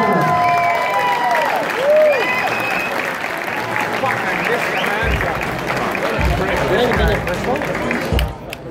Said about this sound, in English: Let's have a big round of applause for these two fine young fighters.